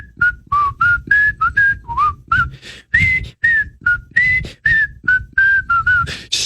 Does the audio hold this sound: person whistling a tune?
yes